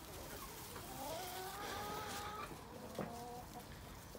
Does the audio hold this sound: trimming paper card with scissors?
no